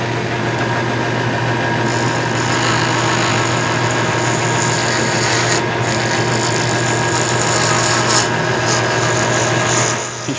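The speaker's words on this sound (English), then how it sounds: "this is a piece of desert ironwood, and we mark the centers, and then we put it on the lathe." A wood lathe turns a block of desert ironwood, giving a loud, steady motorized whir with a constant low hum and a higher scraping layer throughout.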